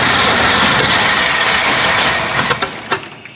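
A Jeep engine that sat unused for 25 years revs loudly and roughly from the start, holding a dense roar before dropping away into sputtering, uneven bursts as it falters.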